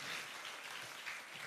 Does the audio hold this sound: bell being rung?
no